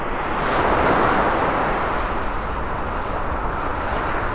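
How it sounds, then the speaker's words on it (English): Ocean surf rolls onto the beach in North Naples, Florida, on an early morning, a loud, continuous wash of breaking waves with some wind buffeting the microphone. "Sounds of the waves are just so relaxing,"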